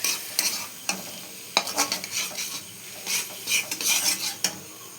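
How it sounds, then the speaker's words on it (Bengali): Beaten egg with salt and chili powder being mixed in a sizzling pan for a simple egg pasta: a spoon scrapes and clinks against the metal in quick irregular strokes over a soft frying hiss, close and without speech. "এবার এটাকে ভালো করে মিক্স করব।"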